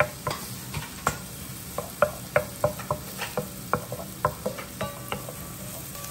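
Chopped garlic and onions sizzle in a pan during a bok choy and hot link sausage dish, a soft frying hiss punctuated by a series of sharp utensil clicks and taps from stirring; no voices.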